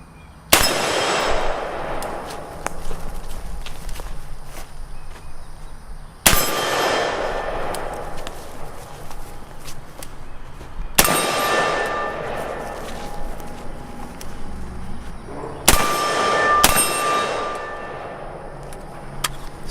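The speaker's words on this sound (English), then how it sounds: "take some shots at the gong" Rifle shots from a SIG MCX strike a steel gong at an outdoor range, giving four sharp metallic clangs that ring and decay, spaced several seconds apart, with the last two close together.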